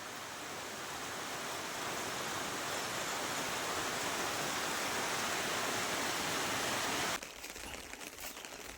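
Heavy rain pours steadily on farm fields, a dense, loud wash that stays even for about seven seconds before suddenly dropping to a quieter patter.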